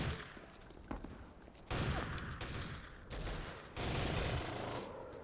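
Sustained squad gunfire from the Full Spectrum Warrior video game, dense rattling bursts of automatic fire continuing through the whole stretch, louder in blocks with brief lulls between volleys, no talk over it.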